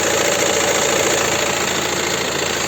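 A 2017 VW Touran Highline R-Line with a 2.0 TDI 150 hp diesel engine idles steadily, a continuous, even mechanical hum and clatter at close range with no talking.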